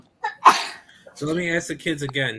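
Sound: sneeze

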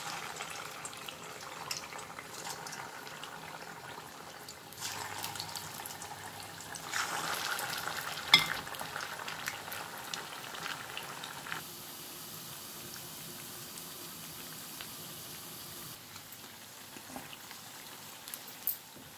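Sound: vada deep frying in oil

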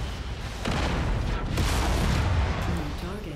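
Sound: ammo explosion in video game MechWarrior 5

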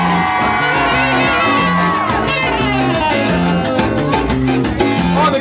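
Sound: crowd cheering and applause

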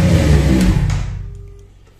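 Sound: Kawasaki Versys 1000 motorcycle engine revving

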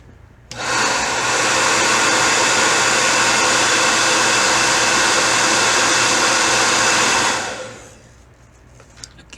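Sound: hair dryer

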